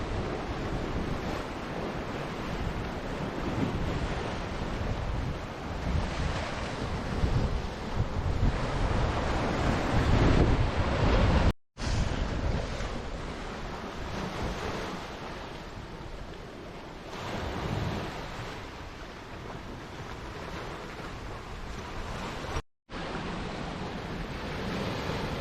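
Surf washes onto a sandy Bermuda beach lined with limestone formations, waves rolling in and receding in broad swells under heavy gusty wind buffeting the microphone, with two brief dropouts and no voices.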